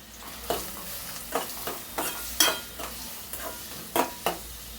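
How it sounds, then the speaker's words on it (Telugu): Onions frying with salt in a pan are stirred in a series of sharp scraping strokes, roughly every half second, over a faint sizzle, close and fairly quiet. "ఉల్లిపాయలు వేసుకున్నాం కదండి. 1 స్పూన్ సాల్ట్ వేసుకున్నామండి. కలుపుకుందామండి."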